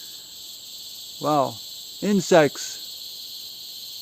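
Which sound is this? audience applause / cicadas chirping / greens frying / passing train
cicadas chirping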